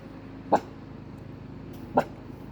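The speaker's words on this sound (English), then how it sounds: "are you barking at Jim that you don't even see right now?" A female dog barks twice indoors at an unseen person, two short sharp barks about a second and a half apart over quiet background hum.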